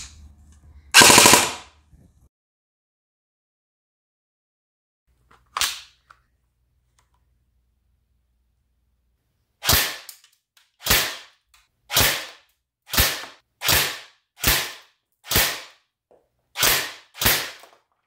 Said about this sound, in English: And here's the fire rate on full auto.